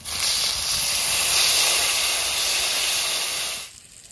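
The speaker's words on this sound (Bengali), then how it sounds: "মশলায় তেল ছেড়ে দিয়েছি, এবার জল দিয়ে দেবো।" Water poured onto spices frying in hot oil gives a loud, continuous close hiss of steam and sizzle that cuts off abruptly near the end.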